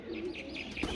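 Sialkoti pigeons coo softly in a brief, quiet run of low repeated calls, close and without talk.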